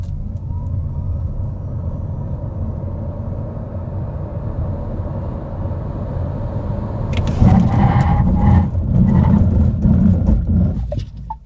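A new Nissan Micra accelerates from a standstill to 100 km/h, its engine a loud, steady interior drone that surges and grows rougher partway through, with rattles and thumps.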